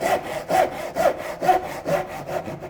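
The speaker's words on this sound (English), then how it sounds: "I can just saw random" A hand saw cuts a series of kerfs into wood for a coffee table, rasping in a steady rhythm of about two strokes per second, close and clear with no talking.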